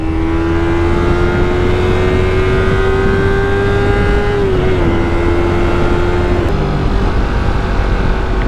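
A Yamaha R25 motorcycle holds a loud, steady high engine note while riding in traffic, its pitch dipping briefly mid-run then settling again, under heavy wind rush.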